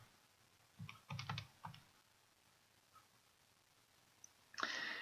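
Quiet clicks of fingers tapping a calculator keypad, a few quick presses in short bursts followed by one louder tap near the end, close and soft with no talking.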